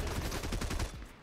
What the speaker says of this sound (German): Schüsse.